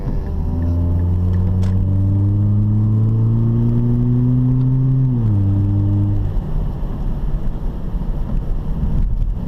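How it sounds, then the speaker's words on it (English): A Mazda 3 engine hums loudly from inside the car as it downshifts into second gear. A steady drone shifts in pitch and then fades out under persistent wind and road rumble. "Downshift in second gear, take this corner 9."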